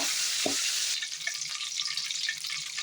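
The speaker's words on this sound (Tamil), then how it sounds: "எல்லாம் எண்ணெயிலே வதக்கிக்கோங்க" Green chillies and curry leaves sauté in hot oil with a loud, close, continuous sizzle. It settles into a crackling hiss after the first second, with no voices.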